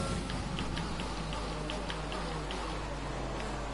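Heavy rain in the F1 2020 racing game, a steady, dense wash of falling drops with faint ticking spatters scattered over a low, constant engine drone, even and unbroken throughout.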